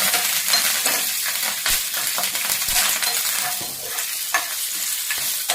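Small onions and curry leaves fry in hot oil for a tempering, giving a loud, close, continuous crackling sizzle broken by sharp pops and the clatter of stirring.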